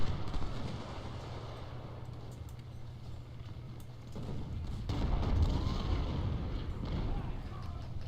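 Artillery fire in the Civil War strategy game Ultimate General: Civil War at the Battle of Shiloh, a dense low rumble of distant booming cannon with a heavier swell midway, under someone talking.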